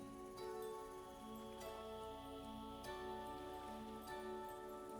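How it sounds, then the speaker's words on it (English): Rain falls in the survival video game Vintage Story as a faint, steady patter of drops blended with quiet background music, with no voices. "Rain!"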